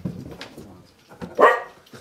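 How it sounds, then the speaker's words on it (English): A dog barks at a communal sleeping place in France, a sharp bark standing out near the end over soft background noise, with fainter barks earlier. "Oh, I have a dog."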